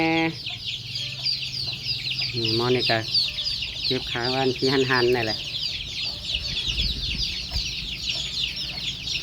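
Chickens cluck repeatedly close by while people talk over them, with a constant high insect drone in the background.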